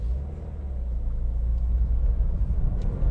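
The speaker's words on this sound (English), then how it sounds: "Nice blue BMW M2." A blue BMW M2 drives by on the road, a low, steady engine and tire rumble that swells slightly as it nears, with no one speaking.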